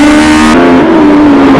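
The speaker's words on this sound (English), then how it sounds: "The KMS Hachiroku has better acceleration." A KMS Hachiroku race car accelerates hard on a circuit, its engine note loud, close and sustained, with a steady high-pitched drone that dips briefly at an upshift and then climbs again.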